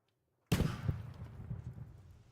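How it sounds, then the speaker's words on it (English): A single distant bang cracks out of near silence, followed by a fainter thud and a rumbling echo that slowly fades. "Gunshots around."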